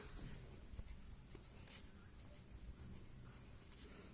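A pen writes on paper during a fifth-grade maths lesson, making faint, quiet scratching strokes against a low background hiss.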